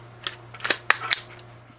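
An M4 rifle being handled with an empty magazine as its bolt locks back, a quick run of sharp metallic clicks and clacks close up, with no voices.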